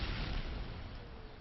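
A grenade blast in Modern Warfare 3 during a competitive match, heard as a dull, rumbling boom that fills the moment and fades slowly, muffled and low with no talk over it.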